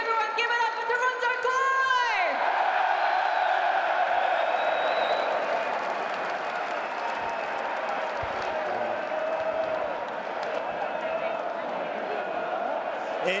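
Big arena crowd at a Call of Duty League Major LAN esports match applauds and cheers loudly and steadily after a fanfare, a sustained roar of clapping and shouting that fills the hall from start to finish.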